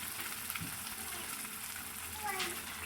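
Boiled masoor lentils go into hot fried masala in a pan, raising a steady, close sizzle with brief stirring scrapes, under a low hum and a faint voice in the background.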